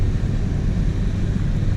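A 2018 BMW 340i xDrive M-Sport engine in Sport Plus mode drones as a steady, loud low rumble from inside the cabin, with constant road and wind noise layered over it.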